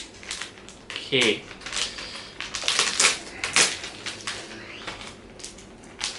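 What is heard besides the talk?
unwrapping a packaged face mask from the National Day fun pack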